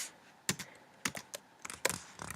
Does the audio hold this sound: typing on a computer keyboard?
yes